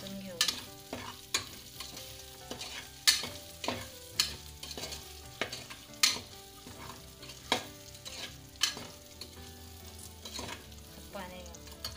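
Aubergines with green chillies being sautéed in a pan, a steady close sizzle broken by regular scraping strokes of a spatula stirring, about one stroke every second.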